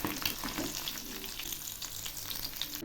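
Tangra fish fry in hot oil, giving a continuous bright sizzle and crackle at close range with no talking.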